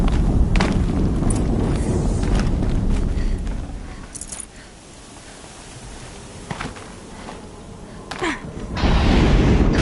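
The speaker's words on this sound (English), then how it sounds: "Another explosion." Explosions and heavy booms in Horizon Zero Dawn gameplay, with loud low rumbling thuds at the start and again at the end framing a quieter stretch of scattered impacts.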